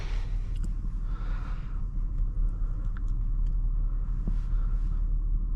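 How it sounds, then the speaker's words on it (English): A 2018 Genesis G80 5.0 Ultimate accelerating hard from inside the cabin, with a deep steady engine rumble held at an even level and faint clicks and interior noises over the top. "Oh wow, this car has amazing pickup."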